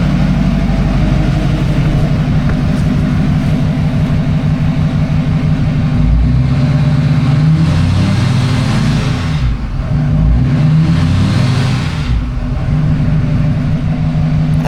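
An LML diesel truck engine, just fitted with a new up pipe and down pipe, runs steadily at idle and then revs up twice in rising, roaring pushes, loud and close with no talking.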